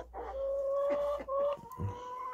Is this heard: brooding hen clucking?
yes